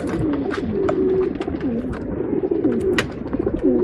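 Close, repeated cooing of a male Cheeni pigeon at a Bangalore pigeon sale, soft throaty coos rising and falling throughout, with background bird chatter and a few sharp clicks.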